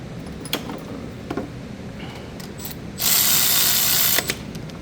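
A ratchet wrench tightens the 10mm ground screw on the alternator of a Nissan Altima 2.5, giving a loud, close, steady clicking run of about a second after a few scattered light taps.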